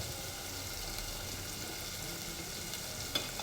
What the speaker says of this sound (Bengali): তো অলরেডি এই যে তেল উঠে গেছে, মশলা কষানো হয়ে গেছে আমার অনেকটাই।